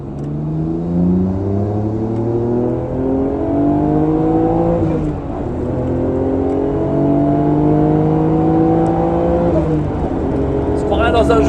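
Nissan Skyline GT-R R34 Nismo engine accelerating hard from inside the car, rising revs climbing through several gear changes, loud and close with people talking over it.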